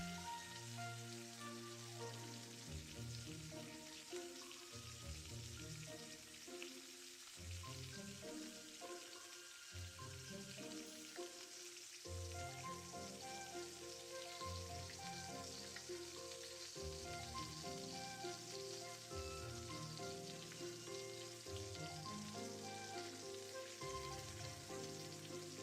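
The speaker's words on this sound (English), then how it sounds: "Look, it's frying already." Food sizzles and fries continuously in a Fire Emblem video game, a steady bright hiss running under layered background music throughout.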